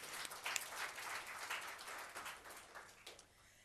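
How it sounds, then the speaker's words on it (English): Audience applause at a 2014 awards ceremony, a steady mass of clapping held for several seconds and easing off slightly toward the end, with no voices over it. "So that deserves a round of applause"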